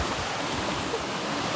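Water flowing at a natural spring used for drinking water, a constant close rushing wash mixed with some wind rumble, without talking.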